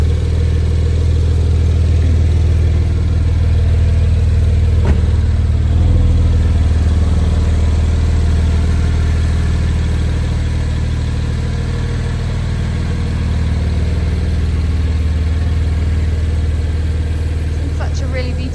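A 2021 Porsche Carrera 4S engine idles with a deep, steady rumble and faint mechanical clatter, close and continuous, with a couple of brief clicks.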